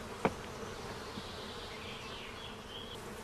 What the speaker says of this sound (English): First, the bees are shaken onto a sheet of plastic.